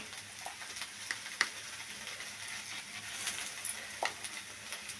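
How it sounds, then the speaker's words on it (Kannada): Okra (bendekai) with salt and turmeric fries in a pan with a faint, steady sizzle broken by a few light taps and scrapes, and no one speaks. "ಈ ಲೈಟಾಗೆ ಇದು ಬೆಂಡೆಕಾಯಿ ಫ್ರೈ ಆಗೈತೆ"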